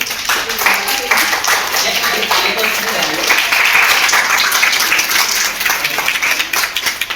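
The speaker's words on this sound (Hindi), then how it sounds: "एक बार ताली हो जाए पहले दोनों लीडरों की" Audience at a youth team meeting in Ballabgarh claps for two leaders, a sustained round of applause with voices mixed in.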